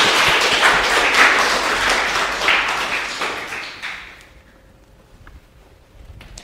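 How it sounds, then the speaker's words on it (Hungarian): A lecture audience gives a warm round of applause for the speaker Gergő after his astronomy talk, loud and dense at first, then fading away after about four seconds into near silence. "akkor egy nagy tapsot kérek szépen Gergőnek"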